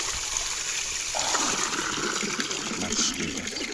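Running water trickles and gushes steadily at a source found along a mountain route during the Alps Divide bikepacking race, a continuous close splashing flow with no voices.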